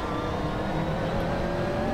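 The McLaren MP4 12C GT3 racing in Assetto Corsa gives a steady, droning engine note held at an even pitch, a sustained mid-level hum with no breaks or gear changes.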